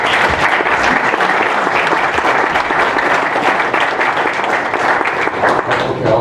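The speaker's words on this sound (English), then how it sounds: "Okay, I'll allow applause for that." An audience at a League of Women Voters candidate forum in Fillmore breaks into loud, dense applause that holds steady for several seconds, with no talking over it.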